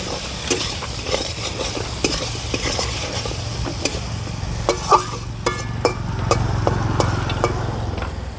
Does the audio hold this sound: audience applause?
no